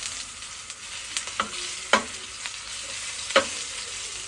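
Kofta frying in a pan gives a steady close sizzle, broken by several sharp pops and spatters spaced a second or so apart.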